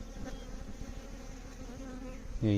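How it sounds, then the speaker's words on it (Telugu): Steady, close buzzing of bees swarming around a tamarind tree outdoors, a continuous drone that thickens and grows louder at the very end. "ఈగలు ఇక్కడ వాలుతున్నాయి కానీ తేనిపార ఎక్కడ ఉంది"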